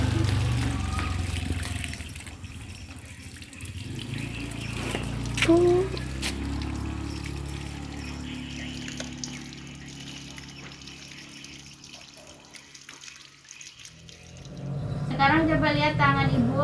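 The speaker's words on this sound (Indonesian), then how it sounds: "bilas pakai air mengalir." Water runs steadily from a tap as hands are rinsed under the flow, a continuous close splashing trickle with a voice talking over it and a louder gush near the end.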